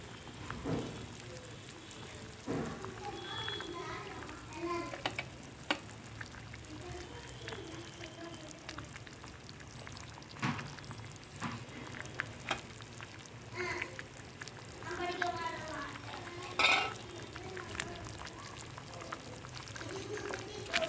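Fish curry (kulambu) with fish pieces added bubbles and simmers in a pot. The bubbling and sizzling is a low, steady texture, with occasional soft pops and clinks over about twenty seconds.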